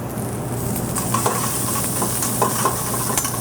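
Shiitake mushrooms, onions, garlic and ginger saute in a hot pan with a steady, loud, continuous sizzle and crackle, with faint stirring scrapes on top and no talking.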